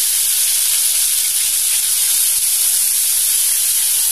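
Ground green chili and cumin paste hits a hot pan for a sweet jute leaf and shrimp curry, giving a loud, dense, continuous sizzling hiss up close.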